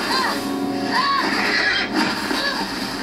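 A horse in The Last of Us whinnies repeatedly, three rising-falling neighs spread over a few seconds, set against dense game noise and background sound.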